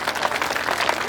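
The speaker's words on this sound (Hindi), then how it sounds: "इसके लिए एक बार तालियों से जोरदार स्वागत अभिनंदन करें।" Dense applause from an audience at a Dewasi Rabari community gathering, steady and fairly loud throughout the short stretch.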